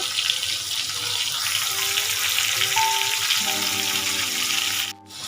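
Bitter gourd, drumstick and raw banana fry in a pan with lentil dumplings, making a steady, close hiss of sizzling oil that dips briefly near the end before resuming.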